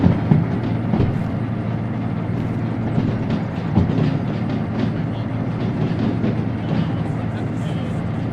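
Train coasting along rails in the Derail Valley simulator, a steady continuous rumble with faint clicking, held at an even level throughout.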